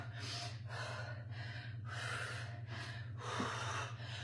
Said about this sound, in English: Be focused on your breathing. Breathe in. Exhale.